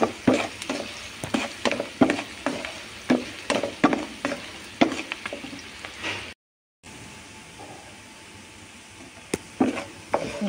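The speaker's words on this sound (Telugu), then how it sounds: "ఉల్లిపాయ ముక్కలు వేగిపోయినాయి." Onion pieces frying in a pan sizzle steadily while a utensil stirs them in a regular rhythm of sharp scrapes and taps, then after a brief silence the sizzle continues more quietly with a few more stirs.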